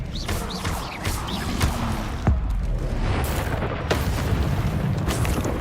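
The Incendio fire spell is cast in Hogwarts Legacy, producing loud booming bursts and crackling whooshes amid dense, continuous combat noise.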